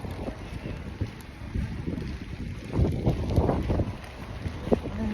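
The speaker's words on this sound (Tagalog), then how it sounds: "Humahangin. May kasamang malakas na hangin." Strong gusty wind buffets the microphone in rough, uneven bursts, rising louder toward the end, with no one speaking.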